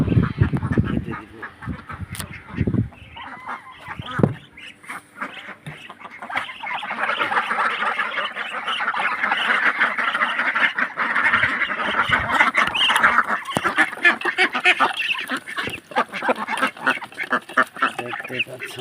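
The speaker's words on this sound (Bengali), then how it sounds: "দেখতে পাচ্ছেন হাঁসকে দিচ্ছি" Ducks quack loudly and continuously while being fed a salted feed mix, a dense chorus of nearby calls with some feeding clatter and a few brief bursts of sound at the start.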